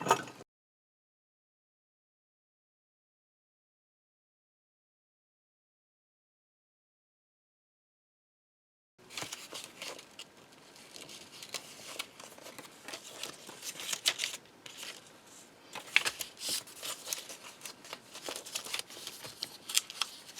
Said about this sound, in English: first thing is to cut out those panes